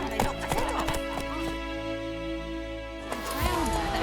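Roach, the horse in The Witcher 3, clip-clops with hooves and gives a whinny amid a busy in-game soundscape, close and fairly loud, with a voice briefly present.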